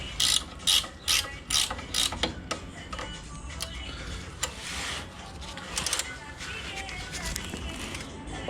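Ratchet wrench loosening a 16 mm bolt on an Audi A3 8P 1.9 TDI, with rapid clicking bursts at the start, then irregular metallic ratcheting and knocks at close range.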